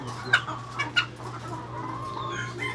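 White layer hens on a small poultry farm in Cordova, Cebu, give a few short, sharp clucks early on, then softer scattered clucking over a low steady hum.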